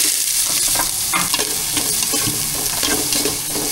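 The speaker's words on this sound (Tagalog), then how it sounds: "Sibuyas, bawang, luya. Igisa na rin po natin" Onion, garlic and ginger sautéing in hot oil in a pot with a steady, loud sizzle, punctuated by the scrape and clatter of stirring. No voices.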